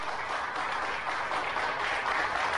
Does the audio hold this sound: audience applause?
yes